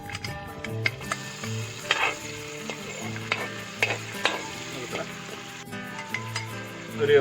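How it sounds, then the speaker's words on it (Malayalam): Whole spices, fennel and star anise, frying with carrot in a hot pan for Malabar chicken dum biryani, stirred steadily with a spoon that scrapes and clicks against the metal over a continuous sizzle. "ഇത്രയും സാധനങ്ങൾ നമുക്ക് ആദ്യം ഒന്ന് ചൂടാക്കിയെടുക്കാം."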